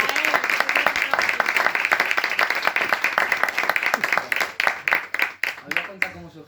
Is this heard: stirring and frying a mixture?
no